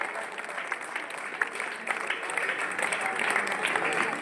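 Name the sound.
applause for an honoured guest at a school event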